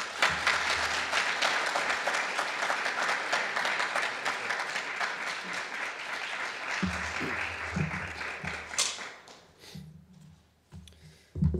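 Audience applause welcoming poet Jake Adam York to a reading at Eastern; dense, steady clapping from a crowd that thins out and fades toward the end, with a few scattered claps remaining.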